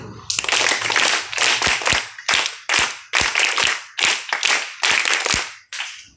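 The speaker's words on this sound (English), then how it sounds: "Scout clap, go." A school assembly group claps the scout clap, a loud patterned sequence of sharp claps in quick bursts with brief pauses between them, ending in a final single clap.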